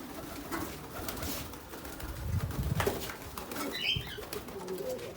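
Pigeons coo softly with a few flaps of wings against a noisy outdoor background. No one speaks.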